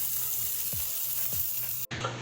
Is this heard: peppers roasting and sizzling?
yes